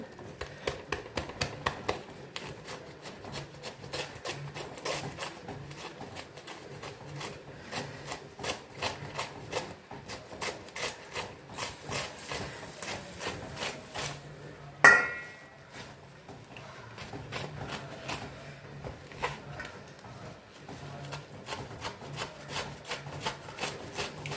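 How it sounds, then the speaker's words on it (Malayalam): A knife chops through a bundle of stacked leaves on a wooden board, with steady, closely spaced cuts that run throughout and one sharper knock partway through. "എല്ലാം കൂടി ഇങ്ങനെ കൂട്ടിപ്പിടിച്ച് ഇതൊക്കെ അരിയാൻ എല്ലാവർക്കും അറിയാം"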